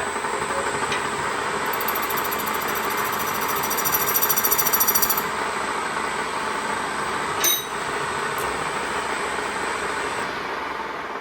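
A metal spinning lathe running with a copper ladle bowl, a steady loud mechanical hum and high whine throughout, with a brief brighter tone for a few seconds and a short knock partway through.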